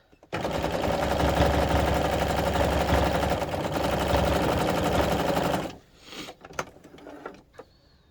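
Sewing machine stitching felt on a stocking-shaped cat toy, running steadily and loudly for about five seconds with a rapid mechanical chatter, then stopping, followed by a few faint handling clicks and taps.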